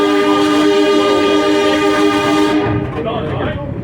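West Chester Railroad 25th anniversary shuttle train with its locomotive, a loud sustained horn blast close by that cuts off, leaving rumbling train noise.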